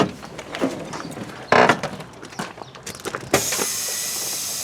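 Parking brake on a Ford F350 diesel truck being set and then released, a short run of ratcheting and mechanical clunks, with a sharp burst midway and a steady hiss at the end.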